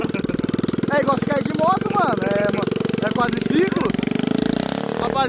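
A mini quad bike engine buzzes and revs with a continuous nasal drone, close and loud, while people talk and shout over it.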